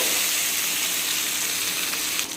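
Ginger and garlic fry on a medium flame, a steady bright sizzling hiss that fills the whole stretch with little change, close and without any talking.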